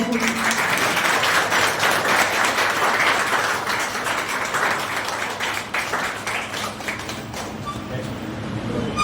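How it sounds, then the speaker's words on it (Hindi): Large audience applauding to welcome a guest at a police recruitment coaching institute, dense continuous clapping that stays loud and slowly thins toward the end. "ताली बजाते हैं।"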